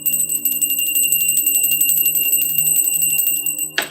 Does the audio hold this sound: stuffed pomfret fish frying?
no